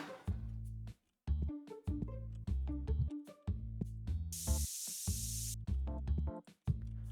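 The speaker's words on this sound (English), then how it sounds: "I hate that I have to use the spray as often as I do, though." A spray can used in the video game TCG Shop Simulator gives a burst of bright hissing lasting about a second, heard over repetitive, loud game music with chunky low beats.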